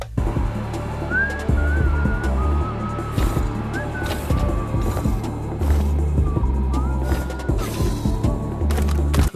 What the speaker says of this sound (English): but that tune they kept whistling